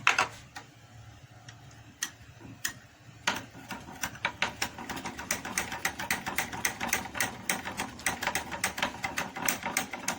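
LABSA and Texapon are stirred together for liquid soap, making a quick run of rhythmic tapping and scraping knocks against the container that grows busier and steadier as the mixing continues.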